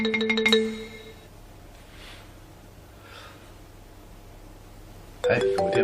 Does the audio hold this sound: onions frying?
no